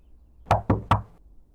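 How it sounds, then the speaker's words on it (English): Three evenly spaced knocks on a door in the video game Doki Doki Afterimage: close, firm raps in a quick rhythm against a quiet background. "At least I don't have to do the knocking."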